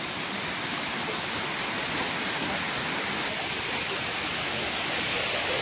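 Up close, the waterfall near Gwalior in Madhya Pradesh roars with a dense, steady rush of falling water. The wash is loud and unbroken, with no voices over it.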